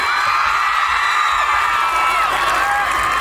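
A festival audience roars after a performance, a loud, continuous wash of cheering and shouting voices with no pause.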